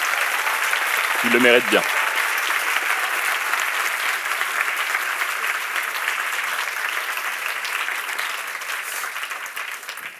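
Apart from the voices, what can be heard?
audience applause for the candidates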